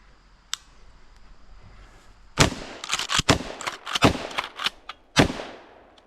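A Keltec KSG12 shotgun fires a rapid string of sharp, loud blasts, about eight or nine shots in quick succession after a quiet lead-in, close by and without talk.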